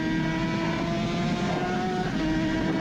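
Onboard engine of a classic Suzuki RG500 racing motorcycle on a road circuit, a continuous droning two-stroke note with steady harmonics, close and loud with wind rush over the microphone.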